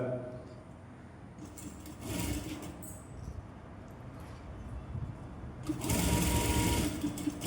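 A sewing machine stitches a corset blouse in a steady mechanical whir, with louder bursts of fast running near the middle and end and quieter handling of fabric in between.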